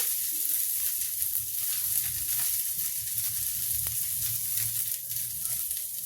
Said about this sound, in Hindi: दाल में थोड़ी सी हींग डाल देते।